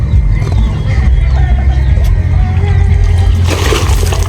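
A pet turkey being bathed and dunked in water, with loud continuous sloshing and churning water close up and a burst of splashing near the end.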